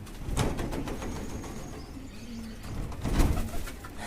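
Pet pigeons coo softly and close by, with two fuller calls near the start and near the end over light background noise.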